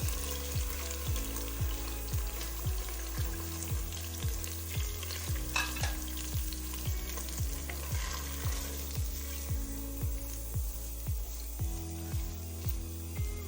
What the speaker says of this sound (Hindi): अब इसी घी में हम प्याज फ्राई करते हैं।